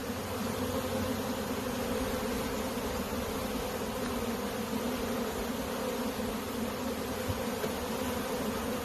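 Michigan honey bees drone in a dense, even hum around an open hive during brood frame removal, a constant close buzz with no pauses and no voices.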